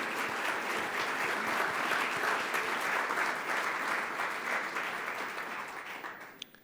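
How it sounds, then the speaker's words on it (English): Audience applause at a live-streamed education policy event, a dense, steady round of clapping that holds loud for several seconds and then tapers off at the end. "Let's give them a nice warm applause for their incredible support."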